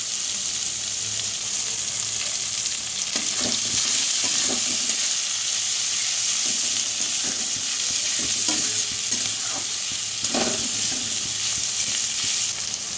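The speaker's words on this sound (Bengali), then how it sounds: "আর কিছুক্ষণ পর ছেড়ে দিলাম ঝিরিঝিরি করে কেটে রাখা পেঁয়াজগুলো।" Thinly sliced onions fry steadily in hot oil with dried chilli, cinnamon and peppercorns for a mutton curry. The dense sizzle is broken by occasional scrapes and stirring knocks of a spoon in the pan, with no talk.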